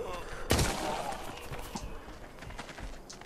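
Gunfire in the VR zombie shooter Arizona Sunshine, played on an HTC Vive: one loud close shot cracks early on, followed by a steady busy game din with fainter scattered thumps, with no talk.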